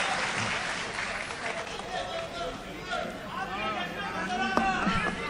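Applause from a mushaira audience at a cinema hall in Bhiwandi, a broad crackle of clapping mixed with crowd chatter, while a voice talks over it toward the end.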